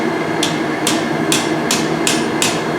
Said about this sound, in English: Just hammer that down in a little bit.